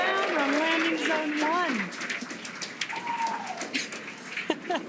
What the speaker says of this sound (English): the crowd here is excited to see Falcon 9 touch down on landing zone